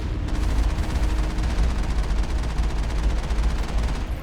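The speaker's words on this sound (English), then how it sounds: "They are definitely heavy turrets" Heavy turrets in Mass Effect fire a continuous, dense barrage of booming shots, loud and close, with rapid rhythmic blasts throughout and no talking.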